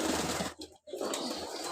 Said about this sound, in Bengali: এইখানে 4 জোড়া রানিং কবুতর আছে, তার ভিতর 3 জোড়া ডিমে বসে আছে